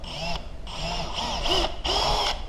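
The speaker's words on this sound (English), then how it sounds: "we just drill our pilot hole" A power drill whirs in short bursts, pitch rising and falling as it bores a pilot hole into the corner of a 2x4, with a brief pause between runs.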